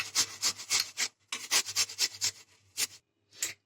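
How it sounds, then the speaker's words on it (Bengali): Apples are grated by hand, giving rhythmic rasping strokes in quick bursts with brief pauses between them, close and clear with no talking. "আমি এবার আপেলগুলোকে ঘষে নিচ্ছি।"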